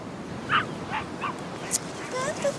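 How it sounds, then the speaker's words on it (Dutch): A few small, high yips from a little dog, scattered across a couple of seconds over a steady background hiss. "Een klein blaffend hondje."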